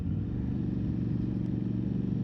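An Aprilia Tuareg 660 adventure motorcycle downshifts on an evening ride home along a Pennsylvania mountain road, with a steady, close engine rumble and low mechanical clatter and no talking.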